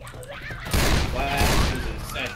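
Rapid bursts of gunfire in the video game Left 4 Dead 2, a dense fusillade of overlapping shots starting abruptly and continuing loudly for a couple of seconds.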